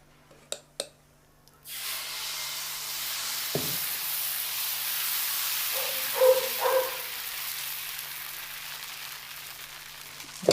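Egg dosa batter hits a hot pan and sets off a broad, steady sizzle that runs for several seconds. A few small pops and soft clinks come over it, and two brief knocks come before it starts. No one speaks.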